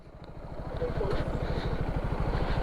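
A motorcycle passes on a road near the toll-avoiding route to Tarlac, its engine putting out a steady chugging throb that stays close and fairly loud throughout the short stretch.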